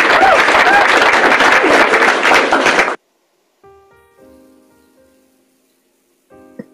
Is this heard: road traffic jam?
no